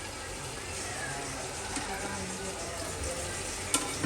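Large chicken pieces, about 120 grams each, hiss and sizzle in a pan for pudina chicken biryani. The frying is steady and moderately quiet, with a faint clink near the end.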